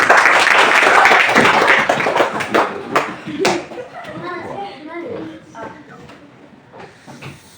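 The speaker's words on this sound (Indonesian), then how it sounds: "Kita tepuk tangan untuk teman kita." A classroom of children clap their hands for a classmate, a burst of quick, uneven claps near the microphone that fades out, with children's voices chattering underneath.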